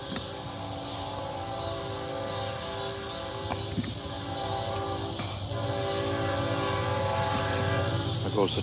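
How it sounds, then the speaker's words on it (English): A train rumbles past with a sustained horn-like tonal drone, loud and steady, swelling slightly as it goes by. "There goes the train."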